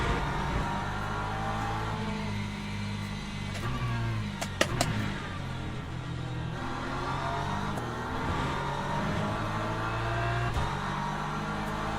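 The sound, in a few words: Porsche race car engine in the video game Le Mans Ultimate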